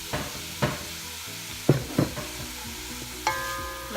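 Meat frying in olive oil in a pan, a soft steady sizzle broken by several distinct scrapes and stirs of a utensil against the pan, close and fairly quiet, no voices.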